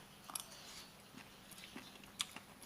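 Someone chews Thai pounded papaya salad with rice noodles up close, with soft wet crunches and a couple of sharper bites over a quiet room.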